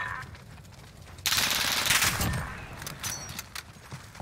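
Gunfire in a Call of Duty Search and Destroy match, a loud blast and sustained burst followed by a few fainter shots, against quiet game ambience.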